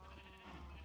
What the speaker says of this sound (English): Crying laughing at setting the poor sheep alight.